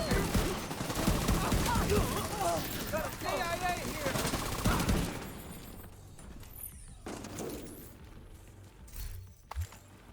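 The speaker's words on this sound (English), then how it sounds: "There'll be no hiding the gunfire." Rapid bursts of automatic gunfire crackle for about five seconds, then fade to scattered quieter shots and clatter.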